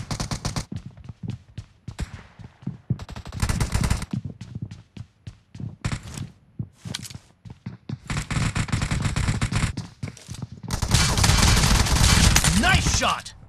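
Bursts of automatic gunfire ring out during a BGMI team match, loud, rapid and close. Volleys come in clusters separated by short pauses, with a long sustained barrage near the end.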